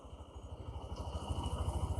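A Honda Shine 125 motorcycle engine idles close by, its low, even thudding pulse steady and moderately loud, with no voices.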